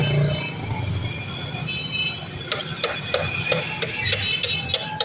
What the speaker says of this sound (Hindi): अब इसको मैं एक्सल लगा के फिट करने वाला हूँ